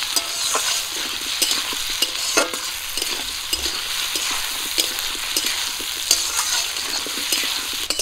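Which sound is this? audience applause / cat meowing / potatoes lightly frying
potatoes lightly frying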